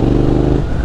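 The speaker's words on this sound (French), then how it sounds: "tu mets des petits coups de gaz, c'est une moto qui est très fun quand t'as un pot d'échappement" BMW F900R twin-cylinder motorcycle with an aftermarket exhaust, engine revving with short throttle blips, a loud, steady, close rumble throughout with no talking.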